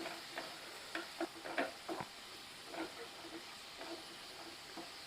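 Two bunches of mint leaves sauté in a pan for mint rice, giving a soft steady sizzle with scattered stirring scrapes and clatters, fairly quiet.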